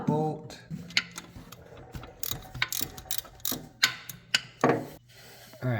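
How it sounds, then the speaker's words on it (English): A ratchet wrench clicks as it loosens a 13 mm bolt on a Porsche 944 shifter during a short-shift rebuild; close, bursts of rapid pawl ticking and metallic clunks, no talking. "And now we can remove that bolt right there. The 13 millimeter bolt."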